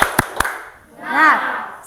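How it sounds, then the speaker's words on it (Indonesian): A classroom claps out a rhythmic cheer: three sharp, close claps in quick succession, followed by a loud shouted voice chanting in the room. "kita tepuk semangat dulu supaya semangat"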